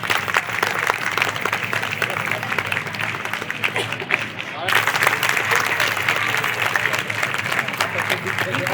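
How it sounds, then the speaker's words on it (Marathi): Loud, sustained applause from an audience at a commemorative lecture event in a Buddhist vihara in Nashik, dense continuous clapping that dips briefly midway and then swells again. "जोरदार टाळ्या।"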